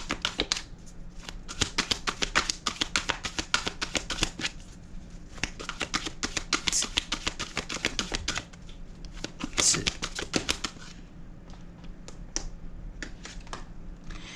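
Tarot cards are shuffled by hand in a rapid run of crisp riffling clicks and slaps, close and clear, pausing briefly before more bursts of shuffling, with a soft voice speaking now and then.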